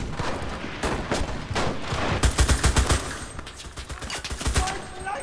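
Bursts of automatic gunfire in Enlisted, rapid sharp shots in several clustered volleys of varying distance and loudness.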